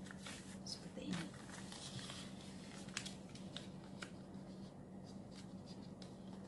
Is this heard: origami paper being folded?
yes